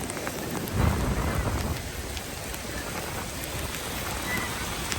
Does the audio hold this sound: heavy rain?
yes